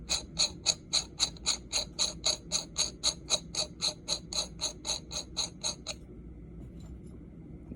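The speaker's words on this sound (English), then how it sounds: "We're going to put the nut back on with the teeth going back towards it on first." Nut threaded onto the adjustable tube of an SBA3 pistol brace, giving a steady run of about twenty sharp, evenly spaced ratcheting clicks close up, which stop abruptly near the end, leaving quiet room tone.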